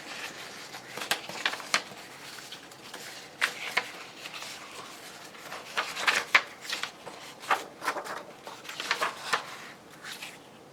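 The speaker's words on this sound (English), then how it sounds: "I just have this whole pile of paper I'm going through." A pile of paper being sorted through at a craft table for a ledger journal: soft, irregular rustling and crinkling with sharper flicks and page shuffles, close to the microphone and without talk.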